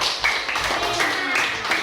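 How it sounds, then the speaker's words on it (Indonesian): A classroom group clapping for a group of students after their presentation, a brief, steady patter of many hands at moderate volume with a faint voice underneath. "Tepuk tangan untuk kelompok"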